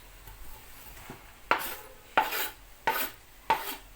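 Chopped onions scraped into a glass dish with a utensil, four scraping clatters spaced roughly half a second apart, close and fairly loud.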